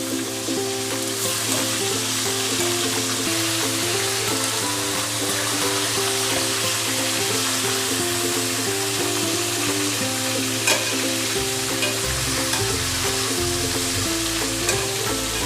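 Crispy chicken wings frying in hot oil while being turned, a loud continuous sizzle up close with stirring and scraping in the pan, steady throughout.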